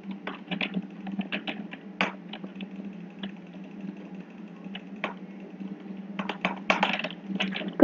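Sharp, dry clicks from an Alcatroz X-Craft 5000 computer mouse, close up, come in scattered single presses and quick bursts, growing into dense rapid drag-click flurries toward the end, over a low steady hum.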